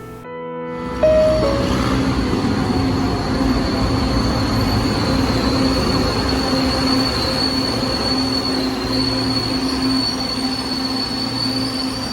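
An MRT-7 train rolls past loudly and steadily on an elevated track, wheels squealing with a sustained high metallic whine over a continuous rumble, no voices.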